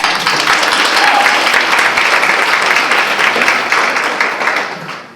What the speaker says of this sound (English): So let's give them another hand clap.